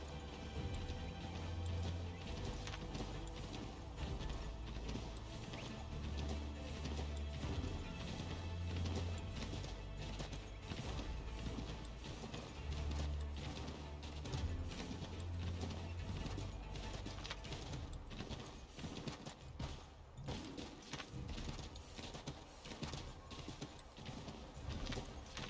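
Horse hooves clop in a quick, repeated rhythm through snow in Assassin's Creed III Remastered, over a busy, constant game soundscape, moderately loud and without speech.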